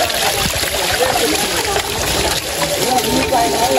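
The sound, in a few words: water falling beside Brahmagiri trek path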